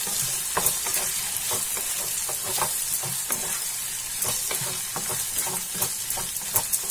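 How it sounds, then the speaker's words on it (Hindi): Kashmiri red chili and red chili powder sizzle steadily in hot oil while a spoon scrapes and stirs in a pan with regular rhythmic strokes, loud and close with no talk. "थोड़ी सी कश्मीरी लाल मिर्च, लाल मिर्च पाउडर, और इसे हम मिला देंगे।"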